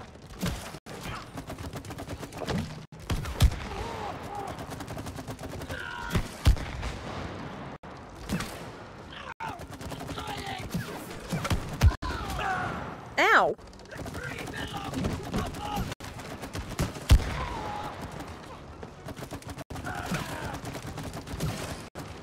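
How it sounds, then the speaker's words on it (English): Repeated gunfire from shooting an enemy in the co-op video game It Takes Two, bursts and rapid shots scattered through dense game music and effects, with people talking over it. "So we can just keep shooting it."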